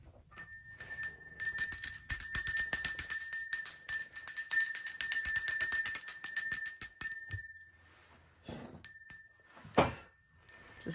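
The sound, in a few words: ringing a bell to cleanse the area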